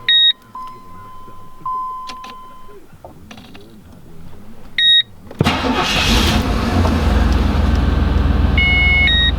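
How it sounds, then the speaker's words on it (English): A 1987 Pontiac Trans Am GTA with a TPI engine: electronic warning chimes sound first, then the engine cranks and catches abruptly into a loud, steady running rumble that continues to the end. No one speaks. "So let's fire it up and get this thing all cleaned up."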